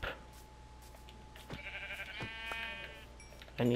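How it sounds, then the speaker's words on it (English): A Minecraft sheep bleats once with a wavering, harmonic call in the middle of the moment, set among soft game ambience and brief thumps. "Sheep."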